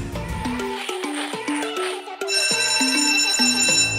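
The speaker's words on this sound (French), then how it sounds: "Oh, c'est la sonnerie." An electronic school bell plays a stepping melodic chime of clear, bright tones, rising and falling in short notes; it starts, pauses briefly, then continues louder and fuller, with no talking over it.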